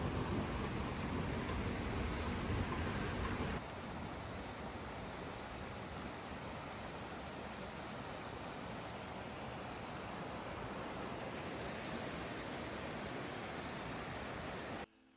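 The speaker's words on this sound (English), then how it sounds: "This is what happens when it rains in my backyard" Hard rain pouring down in a backyard with water gushing from a pipe, a dense, continuous roar that drops slightly in level after a few seconds and then holds steady before cutting off.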